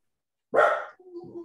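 A dog gives one loud, close bark followed by a softer, lower whine-like yelp, set against an otherwise quiet indoor room.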